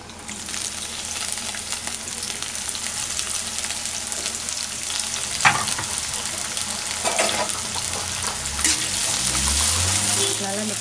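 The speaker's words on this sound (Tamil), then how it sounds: "நறுக்கி வச்ச பாவக்காயை இதல போட்டுக்கலாம்" Chopped bitter gourd sizzles and crackles steadily in hot oil in a kadai, with stirring scrapes and a brief clatter partway through, heard close and continuous.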